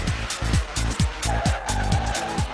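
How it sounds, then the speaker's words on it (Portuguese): Race cars skidding on a track laid out on an old parking lot in Recife, a steady run of loud, close tire squeals in repeated sweeps over engine roar, with no voice. "No final, foi usado como pista de corridas de carros."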